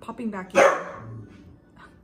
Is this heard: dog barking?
yes